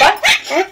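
A puppy gives three quick, high yipping barks in rapid succession, close and loud, within a single short burst.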